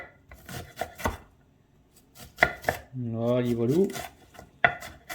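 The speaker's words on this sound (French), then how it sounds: "Et on coupe des petits cubes" A knife chops an onion and vegetables into small cubes on a board, several sharp close knocks spaced irregularly, with a voice speaking briefly in the middle.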